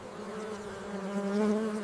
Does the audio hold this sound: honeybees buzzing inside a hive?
yes